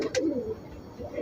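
Pigeons coo nearby in low, soft throaty calls, two brief phrases separated by a quiet gap.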